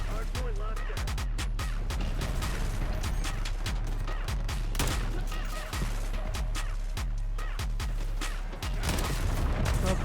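Rapid, heavy shotgun blasts in Call of Duty Black Ops 6, loud and near, crack repeatedly in dense bursts with only brief pauses, layered over constant game noise and voices.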